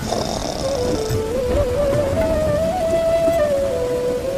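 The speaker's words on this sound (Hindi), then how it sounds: "बाहर हल्की हल्की बारिश हो रही थी।" Soft, steady rain patters continuously, with a faint sustained tone drifting above it.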